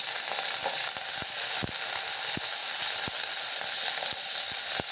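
Two green chillies and a few curry leaves sizzle in hot oil with chana dal for a bean poriyal, a constant close hiss broken by sharp popping crackles and stirring clicks.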